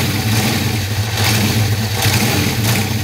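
A 1973 Honda CB750K3 motorcycle in unrestored original condition runs with a loud, steady engine roar that swells slightly as it is revved, close up and without talk.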